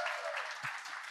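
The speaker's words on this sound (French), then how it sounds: "devant une centaine de personnes. Qui vont applaudir comme ça" An audience of about a hundred people in a hall applauding, a brief burst of dense clapping at moderate level, slightly distant, with a faint voice under it.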